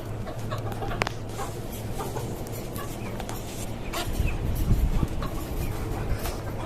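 Chickens, desi and tiger breeds, cluck on a rooftop farm, scattered short calls over a low steady background hum, with some louder shuffling and clucking near the end.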